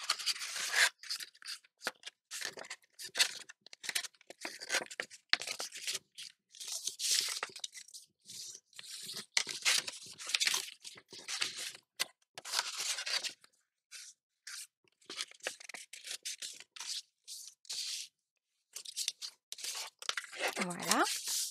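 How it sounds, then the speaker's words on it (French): Paper is creased firmly for a pop-up twist craft page, with crisp crunching and rubbing scrapes in quick repeated strokes, close and fairly loud, with speech heard between them. "je vais marquer bien ces 2 plis."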